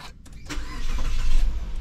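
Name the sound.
Mitsubishi Xpander engine starting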